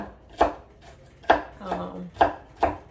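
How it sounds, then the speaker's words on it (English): Celery chopped on a cutting board for Creole potato salad, four sharp knife strikes spaced about a second apart, close and clear, with a faint voice murmuring in between. "I'm just chopping up my celery"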